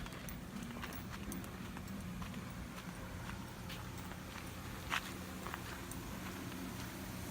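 Hooves of a Western horse clop steadily at a slow walk, close by, over a constant outdoor background.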